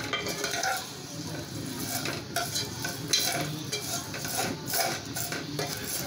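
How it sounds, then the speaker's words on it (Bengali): Semai vermicelli with cardamom fries gently in a pan over a very low flame, a soft sizzle under repeated scraping and clinking of a spoon or spatula as it is stirred, close and steady without speech. "খুবই সাবধানে আস্তে আস্তে করে আমি ভাজছি, যাতে একটু পুড়ে না যায়"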